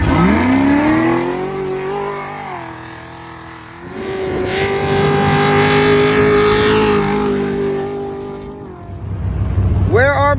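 A turbocharged racing truck engine, such as a Honda Ridgeline built for drag racing, revs loud and close, its tone rising, holding steady and then swelling again in a sustained roar with a brief dip near the end.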